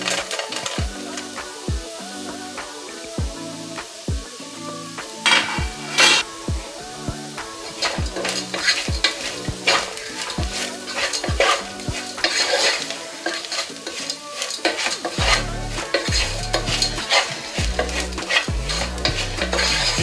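Bitter gourd stir-fried in a pan with spices, a crackling sizzle under repeated clanking and scraping of a spatula against the pan, close and busy throughout with no talking.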